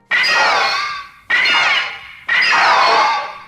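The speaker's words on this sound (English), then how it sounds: "The high-pitched squeaks become great screeches." Three long, high-pitched shrieking screeches from the giant moth kaiju Mothra in the Godzilla films, each starting abruptly, loud and close, then slowly fading.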